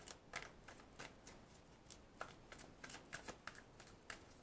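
Soft, rapid shuffling of tarot cards, a steady patter of light flicks and slides, faint and close with no talking.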